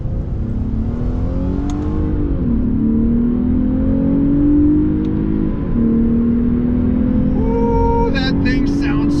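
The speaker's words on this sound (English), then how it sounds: "that engine just sounds so good" Lexus RC350 F-Sport V6 revs hard in first gear in Sport Plus mode, a loud, close engine note climbing in pitch through the pull, briefly dipping at a shift, then rising again, with a faint whine on top.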